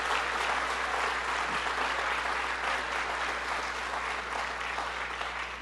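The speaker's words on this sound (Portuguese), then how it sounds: "Vamos lá louvar a Jesus, pode aplaudir Ele." Church congregation applauding together during a worship service, a steady dense clapping that fills the whole stretch at even loudness with no voices over it.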